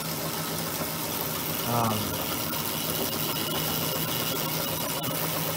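An electric motor runs at a steady hum with a faint mechanical whir during an RPM versus voltage demonstration, the drone constant under a man's brief spoken readings.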